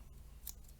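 Leatherman Free K4 multitool scissors snipping through a sailing halyard, one short, crisp cut heard close and fairly quiet against a low background hum.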